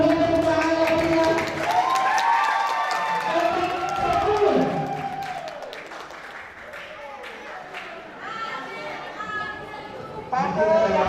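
Clapping and cheering from the audience at a university grand final competition, sustained and fairly loud throughout, mixed with crowd chatter and a voice speaking over it.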